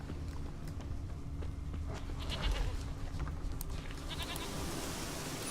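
Sheep bleating in The Witcher 3 video game, a few faint wavering bleats over quiet ambient game sound with soft footstep-like thuds in the background.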